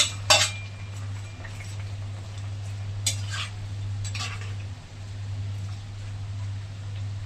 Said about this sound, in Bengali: এখন আমি মাছগুলো দিয়ে দিচ্ছি